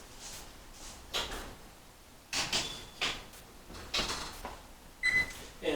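An oven door opens as a tray of pumpkin spice muffins goes in, a series of soft clunks, rattles and knocks spread over several seconds, with no talking.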